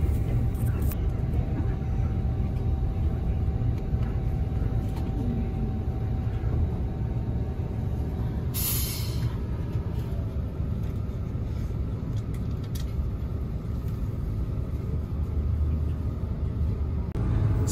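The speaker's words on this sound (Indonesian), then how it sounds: "ini bis kita sudah berangkat lagi" An Eka intercity bus pulls away from a rest stop, heard from inside the cabin as a steady, loud, low engine and road rumble that continues without a break throughout.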